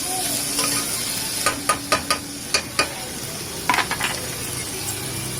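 Onions sauté in a pan for goat breastbone soup: a soft, continuous sizzle is broken by a series of sharp metallic clinks and scrapes as a spoon stirs against the pan.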